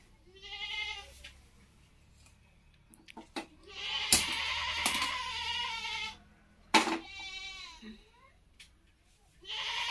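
Several goats bleat in wavering, harmonic cries, some loud and close, with pauses between calls and faint background sounds.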